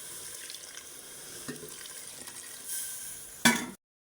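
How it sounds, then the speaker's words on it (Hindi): Water is poured into a cooking pot of beef and bottle gourd, a steady running splash with light bubbling, ending in a brief louder clatter before cutting out. "पानी ऐड कर रही हूँ इतना कि इसमें सब कुछ डूब जाए।"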